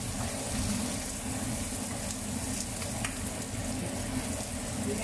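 Sliced onions sautéing in oil in a pan until translucent, a steady close sizzle and crackle running continuously, with faint stirring scrapes.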